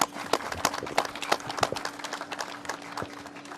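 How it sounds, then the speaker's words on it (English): Steady crowd applause at a COVID-19 press briefing, with scattered sharp claps over a low constant hum, moderately loud and continuous throughout. "And they deserve a round of applause."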